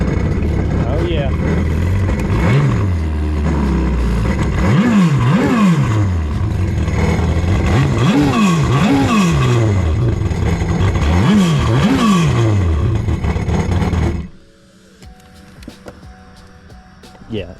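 A vintage jet ski engine cranks over and catches, then revs up and down in repeated rising and falling surges, loud and close, before cutting out abruptly and leaving near silence with faint handling noises.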